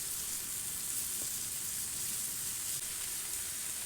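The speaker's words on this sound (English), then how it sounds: "we're going to let these cook for another minute or two." Smash burgers sizzle on a Blackstone griddle, a steady bright hiss of frying with faint crackles, continuous and fairly quiet with no voices.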